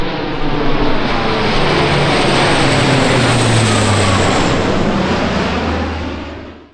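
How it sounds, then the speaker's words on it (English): A loud propeller airplane roars overhead, a broad steady drone that swells and then fades away toward the end. "And then there's another plane right behind it."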